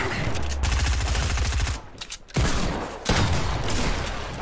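Rapid bursts of automatic gunfire from a Fortnite match, dense and loud, breaking off briefly and then resuming in heavy volleys with booming shots mixed in.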